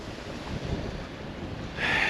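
Wind and waves roll past a sailboat far out at sea, a steady broad rush of air and water that grows a little louder at the end.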